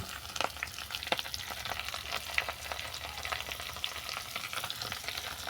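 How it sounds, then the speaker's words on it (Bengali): Chopped tomato tipped into softened frying onions and mixed vegetables for a Bengali khoira fish chorchori, giving a steady close sizzle with a few light stirring clinks and scrapes throughout. "দিয়ে দিলাম কুচানো টমেটো"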